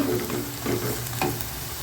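Onions sautéing in oil in a pan for a spicy paneer gravy, a steady close sizzle with a few soft stirring scrapes, no voices.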